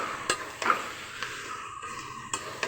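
Goat meat curry is stirred in a pan with a spoon, giving several sharp scraping knocks at irregular intervals over a soft sizzle.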